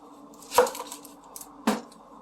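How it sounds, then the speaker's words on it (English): Onions being chopped with a knife on a cutting board in a home kitchen while making chicken paprikash, two sharp single chops about a second apart over quiet room hum. "The next thing I'm going to do is I'm going to do the onions and cut them."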